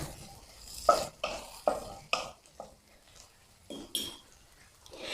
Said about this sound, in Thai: ใส่หอมใหญ่ลงไปแล้วก็ผัดให้หอมใหญ่นิ่มเลย